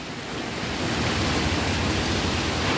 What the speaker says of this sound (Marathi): नुसतं पाऊस पडतोय बाहेर आज।